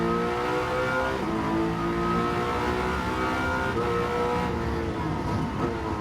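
Gran Turismo 7 car engine revving up through the gears, a steady droning tone that climbs in pitch, drops briefly at each shift, then rises again, fairly quiet and with no talk over it.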